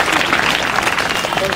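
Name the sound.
audience applauding loudly at a school event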